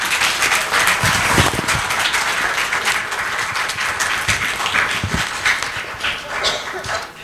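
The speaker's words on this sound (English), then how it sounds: "Please welcome Mr. Pinkesh Shah to the stage with applause." A crowd at a career talk claps continuously in a dense, even patter as a speaker is welcomed to the stage, loud and close for the whole stretch with no break.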